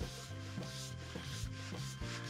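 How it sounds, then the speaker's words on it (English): 320-grit sandpaper rubs back and forth on a fir wooden bowl in steady rhythmic strokes, close and fairly quiet, with no voices. "I sanded it lightly with 320 grit."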